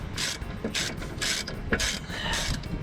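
Ratchet undoing 14mm bolts on a rear brake carrier, a series of quick ratcheting clicking bursts in a steady back-and-forth rhythm, close and moderately loud, with no talk.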